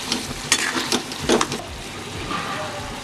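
Spoon scraping and stirring mutton with ground spices in a hot frying pan, several quick scrapes over a soft sizzle, fairly close.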